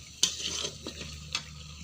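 Masala frying in oil as it is stirred in a pan, a sharp scrape at the start, then soft sizzle with a few more faint spoon strokes, close and quiet.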